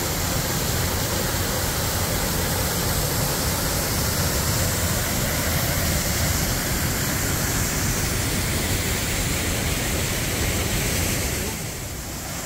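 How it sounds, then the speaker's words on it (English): Roaring waterfall at Camp Creek Falls, heard up close from a grotto: a loud, dense, unbroken rush of falling water that drops off slightly at the very end, with no talk. "I can get even closer to the waterfall"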